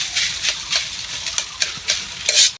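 Rice fries in a pan while being stirred, giving repeated scraping strokes of a spatula in an uneven rhythm over a soft sizzle. The sound is moderately close and ends abruptly.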